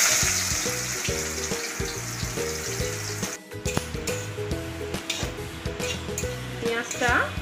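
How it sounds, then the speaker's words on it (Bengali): Thinly sliced onions fry in hot oil for chicken dum biryani with a loud, continuous close sizzle, crackling and rising in bursts, while a voice talks over it. "পেঁয়াজটাকে ভেজে বেরেস্তা বানিয়ে নেব।"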